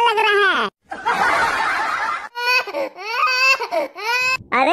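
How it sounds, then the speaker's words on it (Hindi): A cartoon child cries in wailing, pitched sobbing bursts with short pauses, loud and close, in a Hindi comedy cartoon scene. "अरे चिंटू, ये रोने की आवाज कहाँ से आ रही है?"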